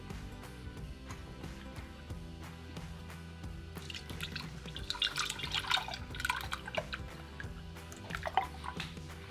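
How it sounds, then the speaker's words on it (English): Rendered beef fat is poured through a cheesecloth sieve into jars, a quiet steady trickle and drip over a faint background hum that grows into a fuller splashing pour midway. "we're just gonna start pouring up and filling our jars"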